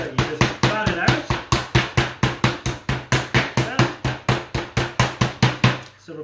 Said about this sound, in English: So I have a meat hammer here.